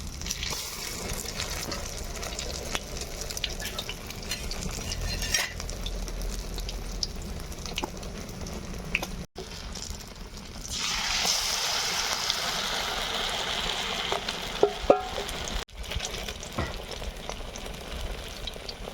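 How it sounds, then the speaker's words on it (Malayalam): Batter-dipped bread deep-frying in hot oil, a steady close bubbling sizzle throughout that swells into a brighter, hissing burst partway through. "ഇങ്ങനെ ഉണ്ടാക്കണ്ട ബ്രെഡ് പൊരിക്കുന്നതാണ് കാണുന്നത്"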